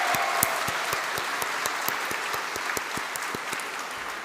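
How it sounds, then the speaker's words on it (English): Graduates of business, advanced manufacturing and logistics programs at a polytechnic graduation ceremony receive steady, sustained applause from a large audience, with a few sharp individual claps standing out above the continuous wash of hands. "Can we have a huge round of applause, please, for all of the business, advanced manufacturing, and logistics graduates?"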